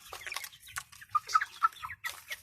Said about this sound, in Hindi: सामने आपके फिर रहे हैं सारे चिक्स।